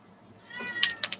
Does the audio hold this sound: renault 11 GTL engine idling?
no